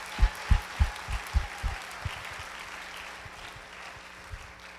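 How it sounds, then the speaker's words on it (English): Audience applause at a Dancing With The Stars For Hope charity show, following a high school dance team's performance: steady broadband clapping, with a few heavy low thumps early on that fade over about five seconds. "Let's give them a round of applause."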